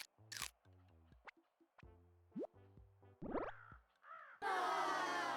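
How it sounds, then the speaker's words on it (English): Cartoonish crow caws from the video game Tomodachi Life come amid plinky game sound effects and ends in a loud burst of noise. "why are there crow noises around?"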